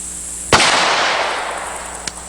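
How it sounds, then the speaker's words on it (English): A single sharp rifle shot with a 165 grain bullet cracks out loud and close, its report ringing and decaying over more than a second, followed by a fainter second pop near the end. "Let's shoot a 5-shot group. We're shooting the 165 grain bullet"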